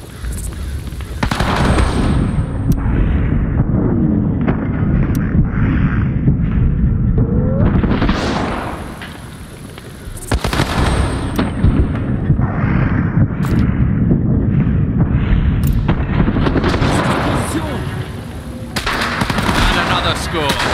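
Sustained battle din from the WWII partisan game Partisans 1941, with dense rifle and machine-gun fire and heavy booms rolling almost continuously, easing briefly twice before resuming, while voices call out over the fighting.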